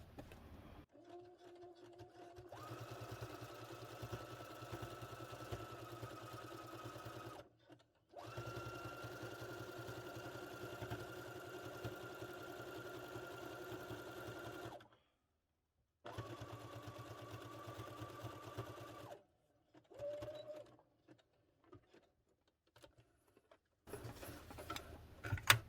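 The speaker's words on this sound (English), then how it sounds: "I think I'll just stitch it down along this side now." Sewing machine stitching a quilted cover made with a cereal box, running in long steady whirring bursts with a rapid ticking rhythm, stopping briefly between runs, close and clear with no talking.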